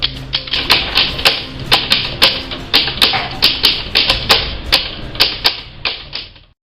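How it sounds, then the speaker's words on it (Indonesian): A mechanical typewriter typing out the Indonesian proclamation text, a long run of sharp, close key strikes in an uneven rhythm, each clack ringing briefly, with no talk. "naskah proklamasi yang sudah dibuat Soekarno Hatta bersama pemuda langsung diketik oleh Sayuti Melik"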